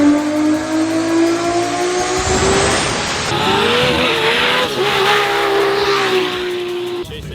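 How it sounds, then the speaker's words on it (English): A Nissan S13 with an all-wheel-drive conversion takes a corner at speed, its engine revving hard with rising and falling pitch while the tires squeal loudly through the turn, close and continuous. "How's your first drive, Jamie?"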